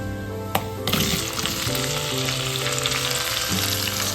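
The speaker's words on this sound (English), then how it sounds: "Add the lady's finger okra to the hot oil." Okra, or lady's finger, fries in hot coconut oil for a Kerala Syrian Christian dish, with a loud continuous sizzle just after it drops into the pan and a few stirs underneath, and no talking.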